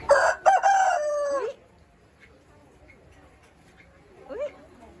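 A loud chicken call rings out close by at a children's play farm for about a second and a half, then quiet, with a faint short cluck near the end.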